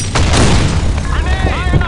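A video game grenade blast and gunfire, with a loud boom followed by rapid, close shots and voice callouts layered over the combat.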